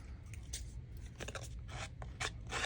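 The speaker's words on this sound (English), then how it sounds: "I'm just going to rough up the edges a little bit with my scissors" Scissors roughing up the edges of a photo for a crafting project, a run of close, dry scraping and snipping strokes at an uneven rhythm, with no talk.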